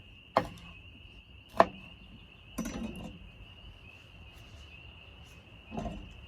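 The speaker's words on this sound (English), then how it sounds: "we've got some chopping to do. So we'll do some green onion" Green onion chopped with a knife on a board at a truck campsite, a few sharp close knocks spaced apart over a steady high insect-like whine, with no talking.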